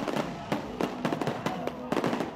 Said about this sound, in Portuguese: A queima de fogos, que durou 12 minutos, iluminou o céu na orla da Atalaia.